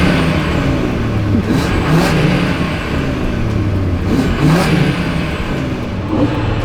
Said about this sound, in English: let's give the RS3 some revs and see how it sounds